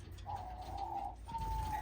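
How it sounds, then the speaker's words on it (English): A pigeon-like bird in an indoor bird room gives two soft, sustained coos, one after the other, fairly close and clear over a low background hum. "This bird is a young bird."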